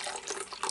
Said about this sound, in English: let's start this off with a little bit of hot water.